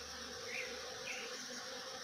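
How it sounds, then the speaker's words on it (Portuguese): Bees of many kinds, including mandaçaia, Africanized and European honeybees, swarm jerivá palm flowers, making a steady, close, dense buzz that holds without a break. "Olha quanta abelha que tem."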